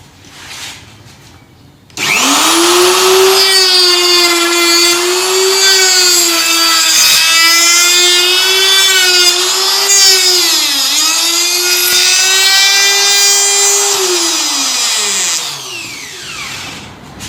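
A router cuts an 8-degree angled vertical tenon in 22 mm thick timber, starting abruptly and whining loudly and steadily, its pitch dipping slightly under load before it spins down at the end.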